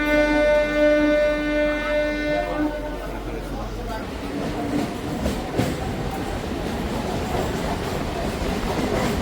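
A Howrah–Digha local train arrives at Kolaghat station. A steady horn tone sounds first, then it gives way to a continuous rumble and rattle of the carriages, with faint clicks of wheels passing over the rail joints.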